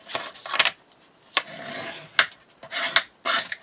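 Paper for an Alice in Wonderland mini album, printed by Stamperia, gets folded down by hand. Close, dry rubs and crinkles come in short bursts with small gaps between them. No one speaks.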